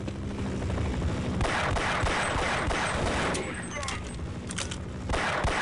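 Rapid, dense bursts of gunfire from the video game Half-Life, with overlapping shots and booms in a continuous, chaotic barrage at close range.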